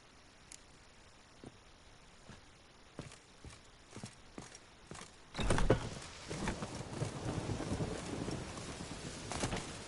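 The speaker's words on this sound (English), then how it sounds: "Witches have conjured rain." Rain in The Witcher 3: Wild Hunt begins partway through after a run of quiet hoofbeats. A steady, fairly faint rush of rainfall with low rumbling continues to the end.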